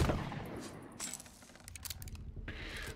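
Several sharp gunshot bursts in the video game Sea of Thieves crack out in quick succession with short gaps between them, fairly close and punchy, no talking.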